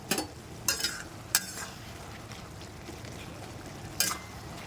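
Prawns and fenugreek leaves being stir-fried in a pan for a Maharashtrian-style dish, giving a steady low sizzle with a few sharp scraping stirs of a utensil against the pan, close up and with no talking.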